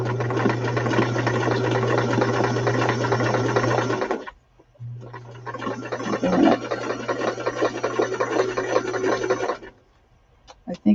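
Sewing machine running a straight stitch through a handmade journal with glued cardboard, a steady loud mechanical whir with rapid needle chatter in two long runs split by a brief stop, close up and without talk.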